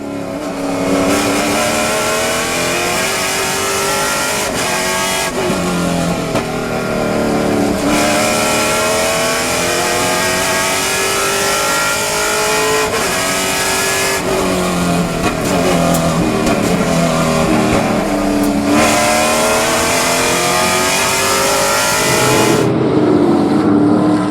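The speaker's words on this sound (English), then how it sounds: "Caleb Schrader's car sounds fantastic." A Trans Am race car engine roars loudly and continuously at Laguna Seca, revving up and down through gear changes as it passes close by.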